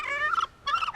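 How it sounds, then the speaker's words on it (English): Farm turkeys gobble twice in quick, warbling bursts with a short pause between them. The calls are fairly faint and close, with no talking. "Check out my turkeys."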